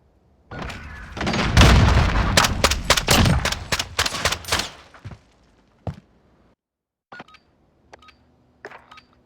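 Dual pistols firing in a Call of Duty tournament match: a loud, fast string of sharp shots over about four seconds, then quieter scattered single pops and clicks with gaps between them.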